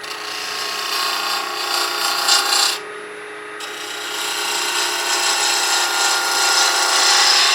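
A power tool grinds and rasps steadily while cutting out a carbide hook tool for wood turning, loud and continuous, dipping briefly in the middle before resuming at full strength.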